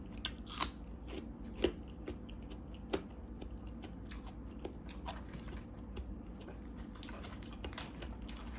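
Someone eats shrimp and blue crab pickled in fish sauce with herbs. Sparse, faint, crisp crunches and bites come at irregular moments over a low, steady background hum.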